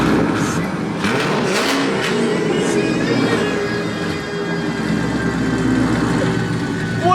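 A C7 Corvette fitted with headers, an x-pipe exhaust and a tune revs hard, its loud, raspy engine climbing and falling over several seconds before settling into a steady drone.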